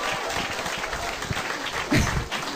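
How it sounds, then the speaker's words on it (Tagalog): An audience at a business presentation claps for a closing speaker, a steady, moderately loud patter of applause with a few low thuds and bursts of crowd noise mixed in. "Ang hina na palakpak nyo!"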